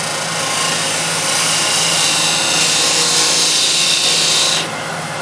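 A 10 mm spindle gouge cuts into wood spinning on a lathe, giving a steady, close scraping rasp with a low hum beneath, which drops away just before the end.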